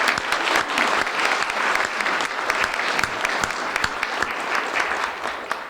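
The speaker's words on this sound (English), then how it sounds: "Let's have a round of applause for Sandy." Sustained audience applause fills an awards ceremony for university leadership honorees, a dense, steady clapping from a large crowd that runs unbroken from start to finish with no talk over it.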